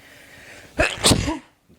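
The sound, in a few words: sneeze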